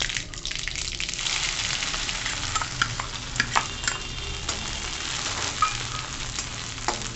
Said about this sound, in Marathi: आता गॅस बारीक करायचा आणि बारीक गॅसवर परतवून घ्यायचं छान, कच्चेपणा घालवायचा लसूण खोबऱ्याचा।